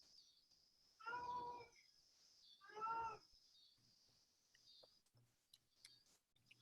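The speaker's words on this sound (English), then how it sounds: "I can hear a cat in the background." Two distinct cat meows, roughly two seconds apart, ring out clearly over a quiet room tone with a steady high-pitched hiss, followed by faint scattered clicks and rustles.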